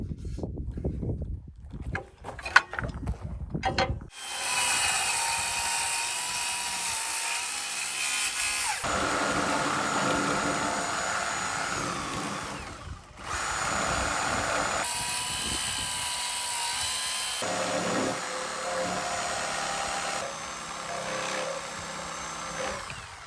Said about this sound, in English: I'll have to finish that off with the Sawzall